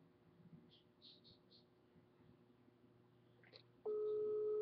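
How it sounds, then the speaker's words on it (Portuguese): A telephone ringback tone on an outgoing call: after a stretch of quiet room noise, a loud, steady electronic tone starts and holds near the end, with no voices. "Tá chamando."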